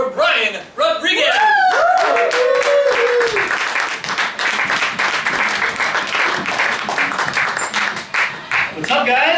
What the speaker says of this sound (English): So please, a nice warm round of applause for Brian Rodriguez!